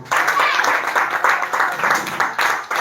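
A church congregation claps in a rhythmic, pulsing burst of applause, close and loud, the beats coming in quick regular waves through the short stretch.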